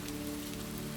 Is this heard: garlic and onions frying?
no